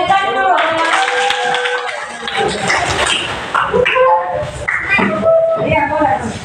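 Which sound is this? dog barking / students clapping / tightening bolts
students clapping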